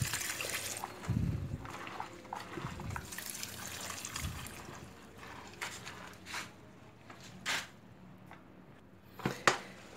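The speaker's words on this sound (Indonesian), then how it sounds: "kita bisa siram pakai air nih guys" Water poured over soybeans being washed for homemade tempeh, with splashing and trickling bursts alternating with quieter moments and a few louder pours and drips near the end.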